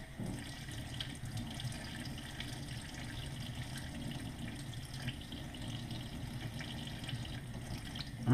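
Cold tap water runs steadily into a sink while anchovy fillets are rinsed under the stream, a continuous close hiss and splash with no talking.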